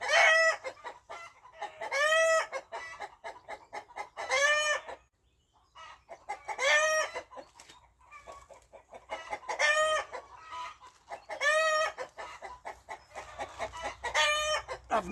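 Chickens squawk and cluck in agitated bursts around a cabin, with a cockerel crowing among them, the loud calls coming in repeated waves separated by short quiet gaps.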